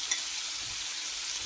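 Garlic and onion sizzling steadily in a frying pan, a soft continuous hiss at close range with no talk over it.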